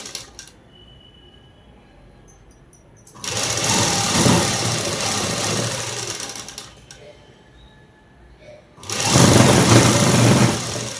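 An electric sewing machine stitches the collar of a neck dress in two steady whirring runs, each lasting a few seconds, separated by a quiet pause with faint handling clicks.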